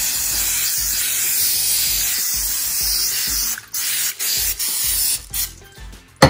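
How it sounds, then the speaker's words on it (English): Cooking spray hisses from an aerosol can onto bacon in a series of bursts, a steady spray that breaks into several short blasts before stopping, close and fairly loud with no talk. "So I'm gonna just put some cooking spray on top of it here."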